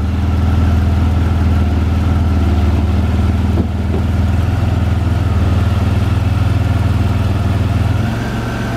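A 2000 Pontiac Firebird's 3.8 engine with 146,062 miles runs at a steady idle, a loud, close, continuous low hum with no voices over it.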